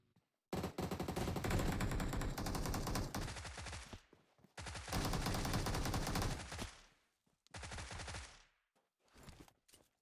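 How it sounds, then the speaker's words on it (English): Bursts of automatic gunfire in a video game esports match, long loud sustained rattles broken by short gaps, then a few shorter bursts, heard alone with no talk over them. "Shooting."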